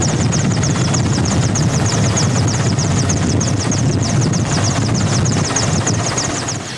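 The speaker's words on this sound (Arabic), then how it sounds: "وهذه طائرة هليكوبتر تابعة للحماية المدنية تجلي حالات طبية مستعجلة" A civil protection helicopter's rotor beats loudly and steadily, a rapid chopping drone that holds close and strong throughout, fading only slightly at the very end.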